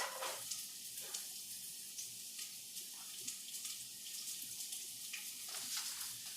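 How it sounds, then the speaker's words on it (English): Onions tossed into a tablespoon of oil in a preheated pan, giving a steady hissing sizzle with faint crackles throughout, fairly quiet and without talk. "I'm going to put about a tablespoon of oil in here and toss in my onions"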